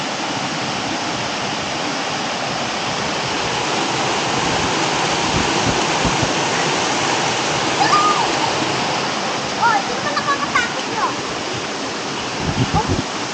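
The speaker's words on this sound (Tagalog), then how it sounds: "meron silang mini falls diba" A small waterfall at a nature camp in Liliw, Laguna pours in a steady, loud, close rush of falling water, with brief voices and small knocks over it.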